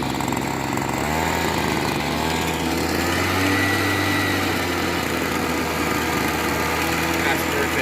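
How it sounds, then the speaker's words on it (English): A Royal dry washer's small engine idles close by at a fast, steady, buzzing putter throughout, with a voice partly heard over it. "we got the dry washer on idle, and I'm gonna go just in front of idle"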